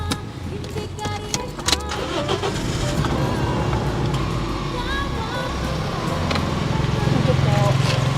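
A car engine cranks and catches, then settles into a steady idle hum, with people talking over it at the start.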